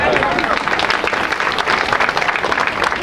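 An audience at a golden jubilee event with a mimicry performer breaks into loud, sustained applause, dense crowd clapping that fills the whole stretch with no pause.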